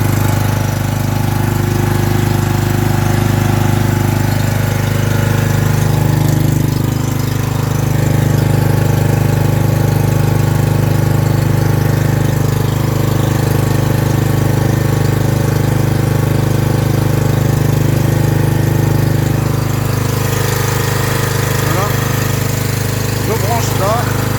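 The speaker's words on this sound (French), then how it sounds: "Ah, puis je lève le starter et il prend le régime." A generator engine runs steadily at speed after the choke is lifted, a loud continuous drone with a constant hum throughout, and someone talks over it.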